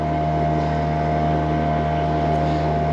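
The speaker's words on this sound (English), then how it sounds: "turned on the engine, full speed ahead" A sailboat's engine runs at full throttle on the Alkmaardermeer, giving a steady, loud, continuous drone with wind buffeting the microphone and no talk.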